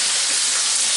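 Chicken pieces flipped in a hot oiled pan for chicken milanese, a loud, close, continuous sizzle of frying with no pause.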